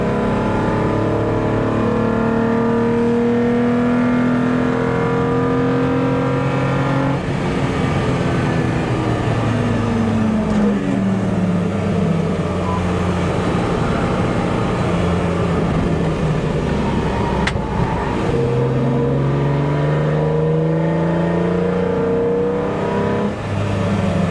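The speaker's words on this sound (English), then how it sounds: "I'm gonna let you listen to the engine" A Toyota MR2 race car engine drones continuously at Snetterton race track, pitch rising and falling as it revs up and down, loud and close, with no voices.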